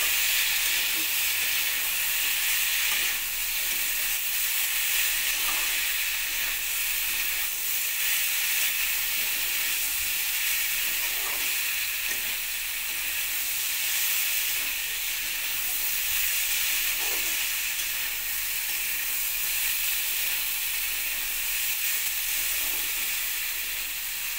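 Potatoes, pointed gourd and soybean chunks being sautéed together with spices in a pan give off a steady, dense hiss and sizzle that runs unbroken for the whole stretch, close and fairly loud, with no talking.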